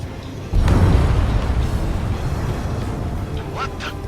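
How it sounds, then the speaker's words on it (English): A deep, rumbling underwater explosion in a video game booms suddenly and rolls on with a low roar, while faint voices or calls come through near the end. "A huge explosion just went off underwater."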